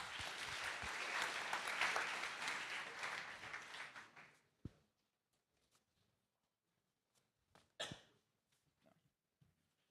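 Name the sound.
audience applause at a hackathon closing ceremony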